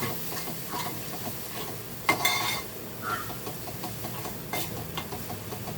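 Malvani-style mandeli fish curry cooks in a pan with a soft sizzle, while a spoon scrapes and stirs, and a couple of sharper clinks ring against the metal, all fairly quiet.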